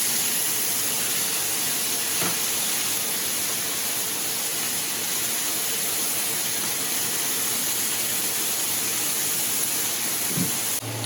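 Steak sizzling in a pan, a steady loud hiss of frying that holds throughout, with a couple of brief clicks and knocks.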